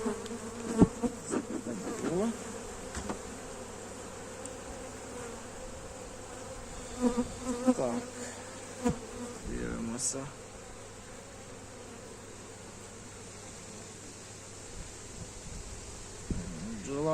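Steady, dense buzzing of many honeybees close by at a weak hive, a continuous hum with occasional louder passes and faint background noises.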